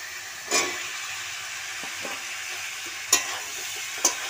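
Fried potatoes and papaya are stir-fried in spice paste for fish curry, a soft steady sizzle broken by three sharp spoon knocks against the pan and faint scraping stirs, close by with no talk.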